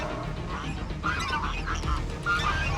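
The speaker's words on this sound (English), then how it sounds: "Hello, swans and geese." Geese and swans call in short honking bursts at a seafront during a storm at high tide, fairly close, over a constant rush of wind and surf.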